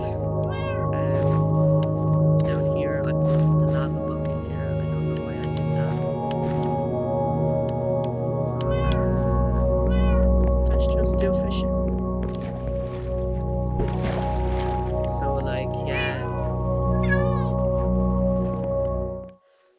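Cats in the Minecraft video game meow over and over, overlapping calls fairly close and clear above a steady bed of game tones that runs throughout.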